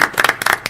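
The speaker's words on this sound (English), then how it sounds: "Shall I give her a round of applause?" A small round of applause from a talk show audience, a quick, scattered burst of clapping lasting under a second.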